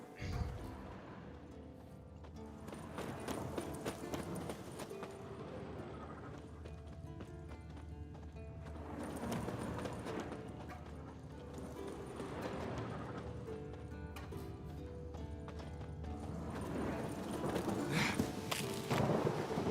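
A horse's hooves clip-clop in The Witcher 3, a steady rhythmic trot running under spoken game dialogue with a swelling musical backdrop.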